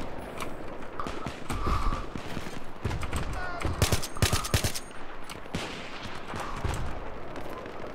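Gunfire in the Battlefield 3 video game on the Canals map: rapid bursts of shots and clattering impacts in a dense, busy mix, loud and continuous over several seconds.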